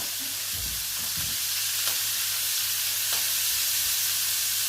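Floured venison searing in a hot pan gives a steady, close sizzle and hiss throughout, with a few low knocks and stirring bumps near the start and no talking.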